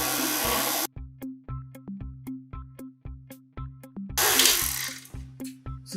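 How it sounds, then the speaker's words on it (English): A blender mixes peanut butter cookie ingredients in a mixing cup, making a pulsing motor whir with rhythmic surges. Two louder bursts of harsh grinding noise break in near the start and again later. "I'm just gonna close my blender and I'm gonna mix it for a bit."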